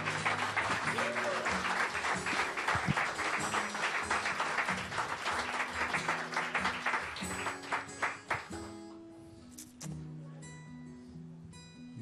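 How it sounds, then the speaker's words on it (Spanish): A church congregation claps loudly during a Spanish-language worship service, over sustained keyboard or organ chords. The dense applause fades after about eight seconds, leaving the music and a few scattered claps. "Dale el aplauso, Señor, claro que sí."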